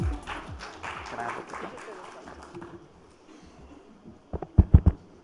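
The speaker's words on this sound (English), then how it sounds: "Ladies and gentlemen, please welcome him with a big round of applause." A conference audience at an evening speaker session applauds a guest coming on stage. The dense clapping is steady at first, then fades within a few seconds, and a few louder close sounds follow.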